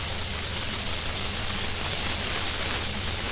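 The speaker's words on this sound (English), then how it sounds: "I don't normally put cooking spray on my stone" A continuous, steady hiss of cooking spray held close over a Pampered Chef bar stone, broadband and unbroken for the whole stretch.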